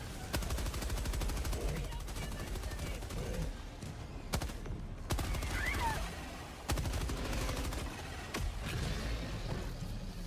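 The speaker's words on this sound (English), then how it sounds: "it's his turret." An automated turret in the video game Helldivers 2 fires rapid, repeated bursts at steady mid-distance, punctuated by a few sharper blasts, with voices talking over the shooting.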